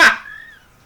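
A single dog barks indoors while a podcast is being recorded, one sharp close bark with a short tonal yelp trailing off behind it, with no talking.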